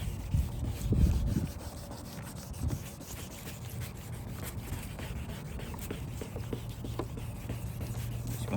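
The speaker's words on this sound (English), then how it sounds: "Just continue putting water in the sandpaper while you're sanding it." Steady soft rubbing and scratching of wet sandpaper on a car headlight, continuous back-and-forth sanding close up, fairly quiet with no talking.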